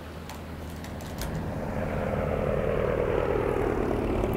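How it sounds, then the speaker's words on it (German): An airplane flies overhead in the Farming Simulator 22 video game, a steady engine drone that grows gradually louder over a few seconds and holds at a moderate level, heard alone without talking. "da hört man auch wieder das Flugzeug"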